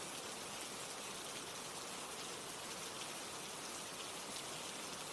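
Steady rain falls evenly and continuously, a dense soft hiss of drops on surfaces with no pauses, fairly quiet and uniform throughout.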